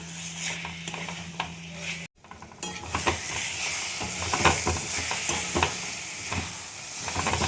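Chicken curry with garam masala sizzles and fries in a pan while being stirred, a crackling hiss with scraping strokes, briefly cut off, then returning louder and busier.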